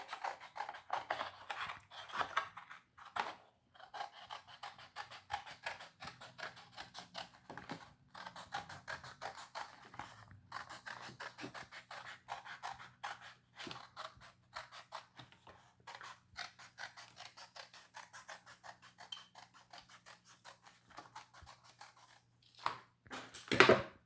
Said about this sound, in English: I'm then going to cut out my circle.